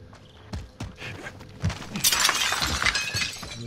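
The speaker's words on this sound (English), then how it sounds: "Glass broke. That was me that broke glass." Glass shatters in the Call of Duty video game amid gunfire and footsteps. A loud, bright crash bursts out midway and trails off in scattered tinkling debris.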